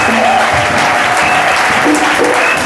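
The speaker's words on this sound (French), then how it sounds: "Applaudissons fort le Seigneur Jésus." Loud, dense applause fills a church congregation, a steady wash of many hands clapping continuously throughout with faint voices mixed in.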